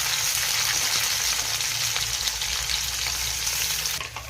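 Chopped onion and capsicum fry in oil in a pan for Maggi noodles, giving a loud, close, continuous sizzle that holds steady throughout and eases slightly at the very end, with no talking.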